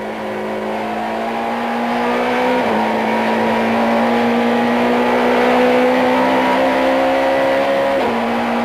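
A 1994 Opel Astra touring car races around the East London circuit, its engine droning loudly at high revs with sharp pitch drops at gear changes, a continuous onboard roar with no talk.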